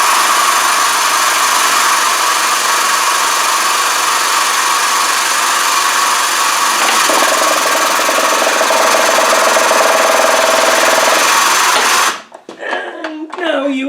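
An air-over-oil press pushes a mainshaft bearing out of a gearbox, a loud steady high-pitched pneumatic whine that runs unbroken for about twelve seconds before cutting off abruptly into quieter shop sounds.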